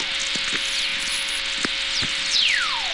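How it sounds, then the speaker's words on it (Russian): Whistler atmospherics, radio signals from distant lightning, crackle as sharp static clicks over a steady hiss, then a clear descending whistle sweeps down near the end. "Это звук молнии на другой стороне Земли."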